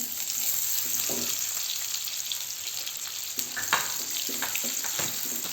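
Onions sizzle steadily in a hot pan, with occasional scraping stirs breaking through the constant frying hiss.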